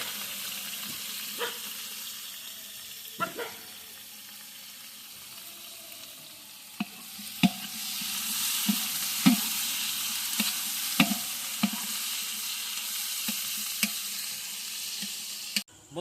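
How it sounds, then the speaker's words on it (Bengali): Onions deep-frying in hot oil to make crisp fried onions for village chicken biryani, a constant close sizzle broken by periodic scraping and clinking stirs of a spatula against the pan. "এই গরম তেলে আমি পেঁয়াজ বেরেস্তা করার জন্য পেঁয়াজটা আমি পুরো এটা দিয়ে দেবো।"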